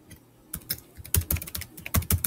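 Rapid bursts of computer keyboard key presses while gaming in an Agar.io-like game, sparse at first then clustering into quick clattering flurries, close and fairly loud.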